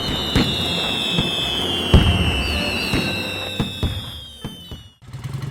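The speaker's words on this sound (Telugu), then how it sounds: "పెద్దవాళ్లు బోలేరు టపాసులు కొనిచ్చారు రాము సోములు కలిసి వాటిని కాలుస్తూ ఎంతో ఆనందంగా గడిపారు" Diwali firecrackers burst one after another in sharp, loud cracks over a constant crackling hiss and whistles, then die down near the end before a last burst.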